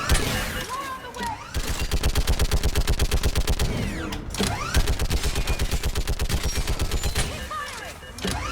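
Sustained automatic gunfire in a Mass Effect 3 battle, loud and rapid with dense repeating bursts that pause briefly near one and four seconds before resuming, with shouted voices mixed in.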